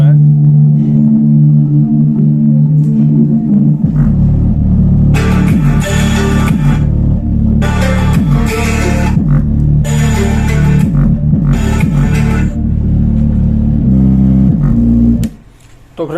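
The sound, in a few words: NCS music bass playing on Panasonic SC-HT40GW-K home theater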